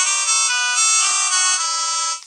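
A flip phone plays a bright, steady electronic ringtone of sustained high tones, loud and close, with no talking over it.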